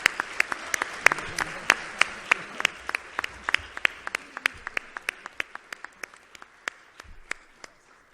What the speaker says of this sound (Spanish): yo pido un fuerte aplauso para sus familiares